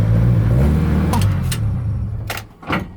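A Scion FR-S engine turns over and runs with a loud low rumble, followed by a couple of brief clicks and a short rev near the end.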